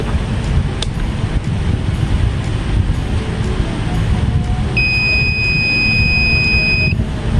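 A multimeter gives a steady electronic beep lasting about two seconds while testing a diode, heard late and sitting above a constant windy, rumbling background.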